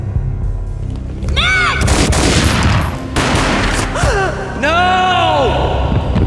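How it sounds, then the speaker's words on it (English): A single gunshot booms in the Max Payne video game amid a loud, dense game soundtrack and effects, with sweeping tonal cries rising over the blast and further rumbling impacts following. "A gunshot boomed and she fell down in slow motion"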